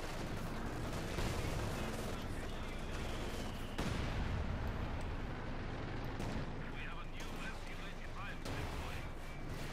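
Tank cannons and small arms fire in Company of Heroes 2, dull heavy booms and scattered shots rolling under a constant battle din, with a commentator talking over the fighting.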